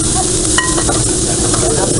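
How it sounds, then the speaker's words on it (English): Shrimp sizzling on a hot Blackstone griddle, a loud, dense, continuous hiss and crackle up close, with faint metal clinks scattered through it. "and then we'll throw the shrimp on"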